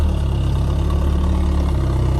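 A 1969 VW Beetle engine runs close by with a loud, steady, low rumbling idle, a continuous even chug and no other sounds over it.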